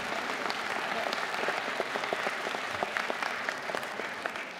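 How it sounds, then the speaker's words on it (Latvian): An audience at a children's reading festival breaks into lively applause, dense and sustained with sharp individual claps popping out of the steady wash. "Aplausos!"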